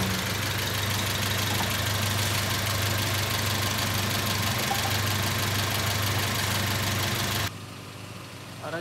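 An Audi car engine idles with a steady, loud, close rumble and a ticking, knocking clatter, then cuts off abruptly near the end, leaving quiet.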